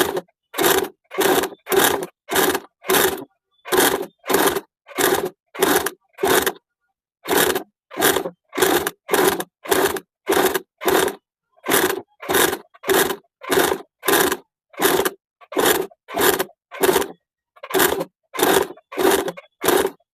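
A sewing machine stitching around lace for a picot edge, running in short even bursts of rapid stitching separated by brief pauses, close and clear with no talk.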